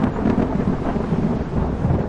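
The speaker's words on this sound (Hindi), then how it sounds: "कुछ ही देर में तेज हवाएं और बिजली कड़कने लगी" Thunder rumbles over strong wind as a story sound effect, a dense and steady low roar with rain-like hiss, moderately loud and with no voices.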